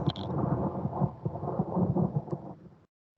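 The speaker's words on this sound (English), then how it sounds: "Gotta do the lightning. It has to happen." A thunder and lightning sound effect rolls out as a low rumbling storm with a rain-like hiss, sustained for a few seconds and fading to silence, with no talking.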